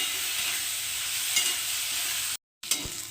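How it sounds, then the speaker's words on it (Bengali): Eggplant pieces frying in oil in a kadai over medium heat, giving a continuous close hiss and sizzle with faint stirring movements. A brief dropout to silence near the end is followed by a quick utensil knock. "বেগুনগুলো ভেজে নেব লাল লাল করে"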